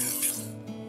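Knife blade drawn briefly across the coarse side of a sharpening stone, a single soft, raspy rubbing stroke, close and fairly quiet.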